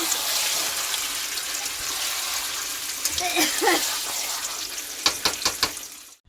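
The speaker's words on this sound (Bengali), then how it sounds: "এই যে মাংস কষাচ্ছে।" Meat is fried and stirred in a pan for a wedding meal, giving a steady sizzling hiss with scraping stirs and sharp clatters of utensils near the end, amid background voices.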